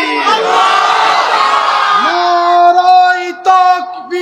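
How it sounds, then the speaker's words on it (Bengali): A crowd at a religious sermon roars the takbir "Allahu Akbar" together, a loud massed shout that settles into a held chant with a few individual voices rising above it near the end. "দেখি একজনে জোরে তাকবীর দেন যাতে ঘুম চলে যায়"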